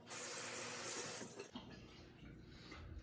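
Onions for onion rings are rinsed under a running kitchen tap, water hissing and splashing steadily, then the flow eases into softer trickling and handling sounds, with no one speaking.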